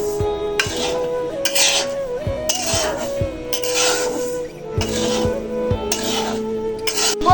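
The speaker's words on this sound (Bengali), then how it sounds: "আমি এখন সুজিটা ভালোভাবে ভেজে নেব" Semolina being stirred and dry-fried over a low flame in a pot for halwa, with steady scraping and rasping strokes of a spoon against the metal recurring throughout, close and moderately loud, with no talk.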